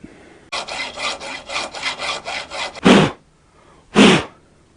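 A file or small saw cutting a groove into a brass carburetor pilot jet from a Brozz 250 Chinese motorcycle, with eight quick rhythmic rasping strokes followed by two slower, heavier strokes, close and crisp with quiet gaps between.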